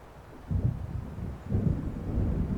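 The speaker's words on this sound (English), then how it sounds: "It seems there's a storm coming." Low, rolling thunder of an approaching storm in the video game Alan Wake Remastered, two swelling rumbles a second apart, moderately loud and alone.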